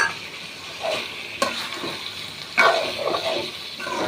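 Meat sizzling and being stirred in a pan with chili, cumin powder, coriander powder and garam masala, with steady frying hiss and several sharp spatula scrapes and knocks spread across the stretch.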